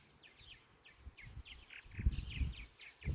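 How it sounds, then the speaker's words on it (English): Sparrows in a tree give faint, quick chirps in a repeated pattern from some distance, with soft low thumps and rustling nearby. "Those are the sparrows over there on the tree."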